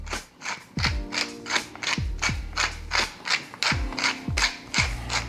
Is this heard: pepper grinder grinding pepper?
yes